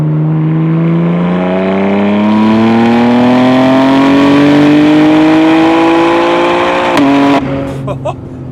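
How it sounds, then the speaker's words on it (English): A BMW M2 G87 engine revs up steadily and loudly through its aftermarket exhaust, pitch climbing for several seconds before cutting off with a sharp crackle. "But to have this exhaust system on this car or another one. Oh, listen to the sound."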